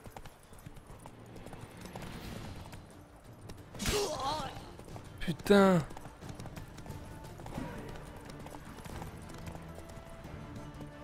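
Horse hooves clip-clop steadily in The Witcher 3: Wild Hunt, with louder bursts of hoofbeats and faint game sounds underneath, and someone briefly speaks over them.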